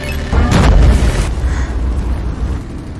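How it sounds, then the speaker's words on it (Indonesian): A high explosive round blasts through a wall in the film Dredd, a loud booming detonation with a heavy low rumble that decays into crumbling debris noise, with no voices. "langsung ditembak dengan peluru ledakan tinggi agar mereka semua bisa kabur dari sana"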